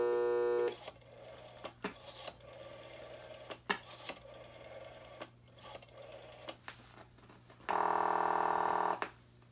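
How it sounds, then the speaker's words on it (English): A call placed over a step-by-step switched telephone line through a Western Electric #3 speakerphone with a 55 B control unit: a tone, rapid mechanical clicks and ratcheting of the switching, then a steady loud ringback tone near the end. "Place a phone call to a friend of mine over the step-by-step line."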